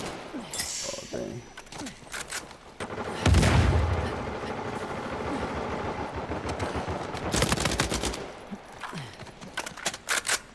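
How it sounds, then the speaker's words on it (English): Gunfire in the Uncharted 4 multiplayer video game, with bursts of rapid shots and a heavy boom mid-clip, then clustered volleys near the end, loud and close. "Who is shooting me?"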